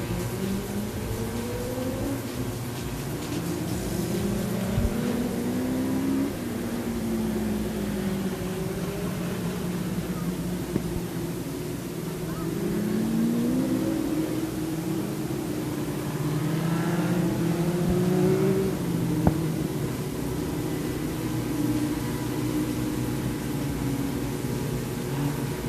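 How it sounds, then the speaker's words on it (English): Several race car engines drone and rev at Bakersfield Speedway in California as six cars roll out for a heat race, a steady, distant layered engine rumble without talk. "Looks like we've got all 6 cars out to the racing surface."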